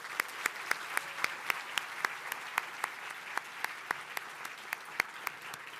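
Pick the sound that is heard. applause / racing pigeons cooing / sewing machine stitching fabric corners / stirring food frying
applause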